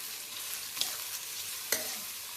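Long-sliced onions frying in a generous amount of oil for chicken curry, a steady close sizzle with two sharp clinks of stirring against the pan.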